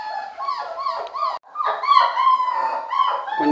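Young puppies, about 25 days old, whimper and yip in a living room, a continuous chorus of high whining cries with a brief pause, close and fairly loud.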